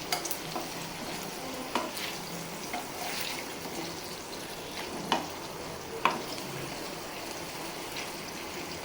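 Pieces of food fry in a pan with a soft, steady sizzle and occasional clinks of stirring, fairly faint and close, with no voices.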